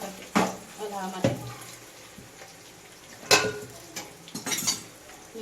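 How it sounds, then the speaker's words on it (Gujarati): Spoon clanks and scrapes against a pot while chili powder is stirred into potatoes boiling in water, a few sharp metallic knocks spaced irregularly over a low simmering background. "મરચું નાખીએ એટલે બળી ના જાય મરચું હલાવવા માટે"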